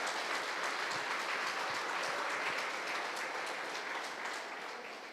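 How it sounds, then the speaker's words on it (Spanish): Church congregation clapping during a Spanish-language worship service, steady rhythmic applause from a crowd at moderate distance, gradually fading toward the end. "dale un aplauso al Señor"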